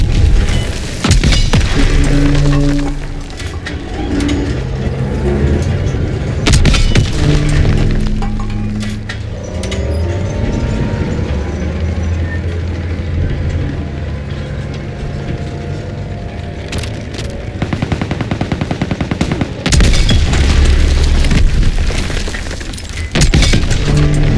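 Panzerschreck rockets explode repeatedly in a Call of Duty: World War battle, heavy booms and cracks with shattering debris over constant gunfire and combat noise, loud and close.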